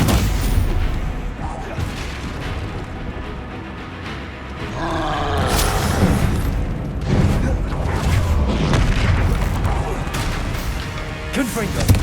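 Blasting spell explosions in the wizarding video game Hogwarts Legacy go off as heavy booming blasts with roaring rumbles, repeated across the stretch, while a player shouts spell names over the combat.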